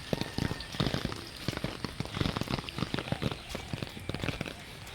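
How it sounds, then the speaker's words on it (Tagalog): Heavy rain pours down in a steady, dense patter of crackling drops striking a surface, continuous and close throughout. "tulad ngayon, maulan na naman. Grabe ang ulan."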